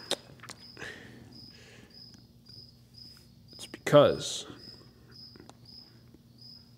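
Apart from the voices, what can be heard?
crickets chirping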